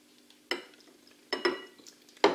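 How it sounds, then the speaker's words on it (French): Ground meat and milk being mixed together for meatballs, three soft wet squelching pushes spaced about a second apart, close and fairly quiet with near silence between them. "le but c'est de mélanger le lait à la viande"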